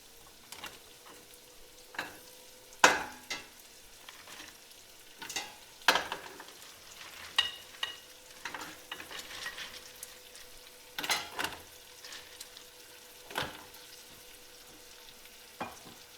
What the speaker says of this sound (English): I'm adding the garlic. And I'm going to place all of these clams here in this pot.